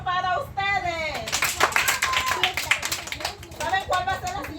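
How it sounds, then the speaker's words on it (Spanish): Students at a Garifuna cooking class clap for themselves, a burst of hand clapping mixed with speaking voices, including a child's, close by. "Y un aplauso para ustedes."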